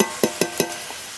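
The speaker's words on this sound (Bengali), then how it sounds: "ফুলকপির সাথে একটু হালকা করে কষিয়ে নেব" Spice paste of cumin and green chilli being stirred with kohlrabi in a wok: three or four sharp scraping strokes close by, over a faint sizzle that fades to near quiet.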